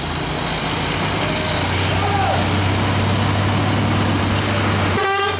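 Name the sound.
Pertamina tanker trailer truck driving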